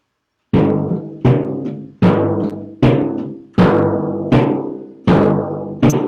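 Eight resonant timpani strokes ring out loud and close. The first four are damped short, and the last four blend together more smoothly.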